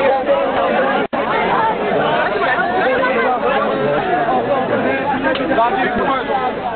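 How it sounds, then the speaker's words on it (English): A jostling crowd of spectators at a film shoot in Kashmir, a dense, continuous babble of many voices close around, with no single sound standing out. "The crowd jostles."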